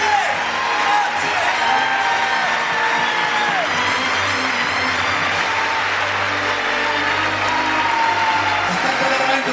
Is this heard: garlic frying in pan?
no